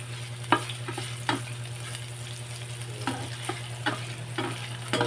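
Ginger and garlic sauté in a pan, a steady close sizzle broken by repeated sharp clinks and scrapes of stirring at a loose rhythm, over a low constant hum, with no talk.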